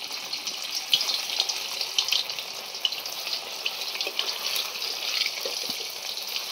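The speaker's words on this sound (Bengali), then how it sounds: "মুইঠাগুলো ভাজার জন্য কড়াইতে পরিমাণ মতো সরষের তেল গরম করে এবার মুইঠাগুলোকে ভেজে নেব।" Soybean muitha dumplings fry in hot mustard oil in a pan, a steady hissing sizzle with scattered pops and crackles throughout, close and even in level.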